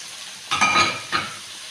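Mutton fries quietly in a pan with a soft sizzle, broken by two short scraping bursts as the meat is stirred.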